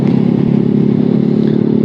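A Yamaha Aerox 155 scooter fitted with a Proliner exhaust idles close by, a steady, throbbing low rumble with a gritty rattling edge and no change in pace.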